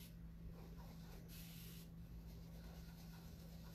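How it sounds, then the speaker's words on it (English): A spray bottle hisses in a single burst of a little over half a second midway through, spraying fabric, over a steady low background hum. "so I'm spraying my fabric before, working my paint in, spraying it after"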